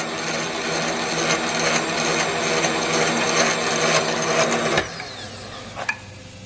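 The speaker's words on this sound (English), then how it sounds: "we're at the mill, and we're gonna get this billet half modified" A milling machine cuts a billet transmission brake half for a TCI Griner Coan 727 trans brake, a steady loud whirring hum with a chattering cut that stops abruptly near the end, followed by a light clink.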